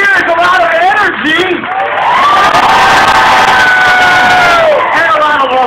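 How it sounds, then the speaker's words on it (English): A loud outdoor crowd cheers, whoops and shouts for a traveling band at a Wheel of Fortune Wheelmobile event in Monroe, Ohio, with children's shrieks and a swelling roar that peaks midway and then tapers off. "a big round of applause for our traveling band, Morgan, everybody"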